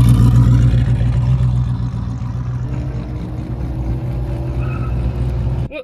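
The 685-horsepower junkyard turbo Corvette's engine runs loud and close with a steady, deep rumble that fades slightly, then swells again before cutting off abruptly.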